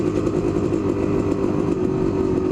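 Kawasaki KDX250 dirt bike engine running steadily in third gear at low speed, a continuous loud two-stroke drone with a slight vibration and no talking.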